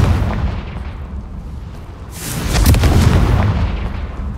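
A Confringo blasting spell explodes in Hogwarts Legacy, a loud rumbling boom that swells midway and rolls on, layered over a low steady game background with no talking.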